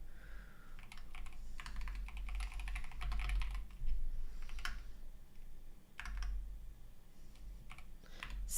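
Typing on a computer keyboard while updating code, with clustered bursts of quick, close clicks and short pauses over a steady low hum, and no speech.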